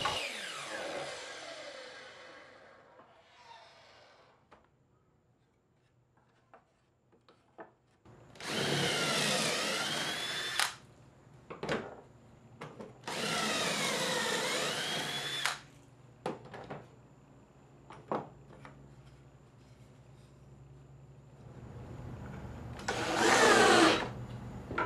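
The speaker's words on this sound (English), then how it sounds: "Over at the drill press, I've got one of the cutoffs from the box sides, as well as a 4-inch hole saw installed." A drill press fitted with a 4-inch hole saw cuts into a wooden board in three separate bursts of loud whining, grinding noise. Quiet gaps and small clicks and knocks fall between the cuts.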